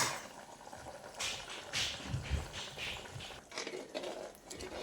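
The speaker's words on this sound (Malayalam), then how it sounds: "ഇപ്പോൾ നമ്മുടെ കറി നന്നായിട്ട് തിളക്കുന്നുണ്ട് കേട്ടോ" Kerala fish curry bubbling away in a covered clay pot, a faint continuous simmering gurgle with small irregular pops and clicks, steady and close.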